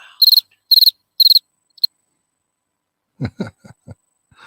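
Three loud, rapid bursts of cricket chirping, evenly spaced, close and shrill, followed by a few scattered low thumps and brief noises.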